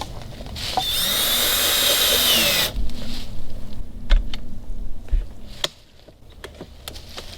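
A power drill runs steadily for about two seconds, loud and close, driving screws into a temporary mount for an Evinrude 90 HP outboard engine from 1983. Scattered knocks and handling noises follow.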